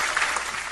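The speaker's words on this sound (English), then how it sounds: "Let's give them a round of applause" Audience applause fills the whole moment, a dense steady wash of many hands clapping together, fairly loud and continuous with no voices over it.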